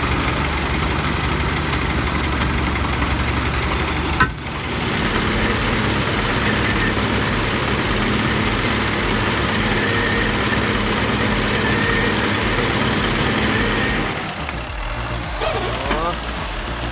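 The engine of a TDT-55 timber machine, pushed to its limits on heavy timber work, roars loud and steady for most of the stretch before dropping off near the end.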